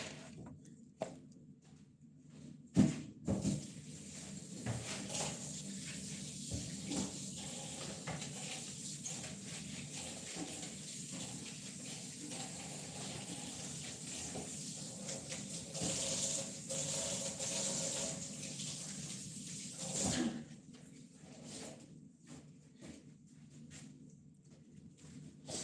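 Tap water runs steadily into a kitchen sink while vegetables are washed, a continuous hiss and splash with a few louder knocks near the start and a break around twenty seconds, close by.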